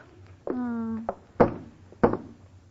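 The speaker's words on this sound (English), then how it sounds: "Lady, will you please stop knocking on those lifeboats?" Knocking on the wooden hull of a lifeboat aboard a ship, heard on an old radio comedy broadcast: two distinct raps spaced about half a second apart follow a brief voiced tone.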